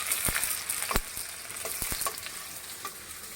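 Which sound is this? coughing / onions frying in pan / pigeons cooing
onions frying in pan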